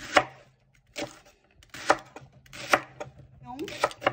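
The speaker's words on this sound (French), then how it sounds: "Donc, le petit oignon. On coupe, vous voyez, de cette façon." An onion chopped with a kitchen knife on a cutting board, sharp chopping strikes landing in small bursts about every second, close and fairly loud, with no voices.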